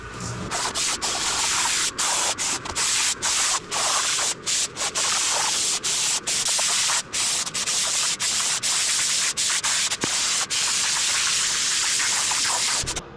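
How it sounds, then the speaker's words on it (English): A can of spray foam is shaken hard during a boat refit: a loud, continuous rattling and rustling close up, broken by brief regular gaps as the shaking strokes change, with no talking. "Shaking the foam for a minute."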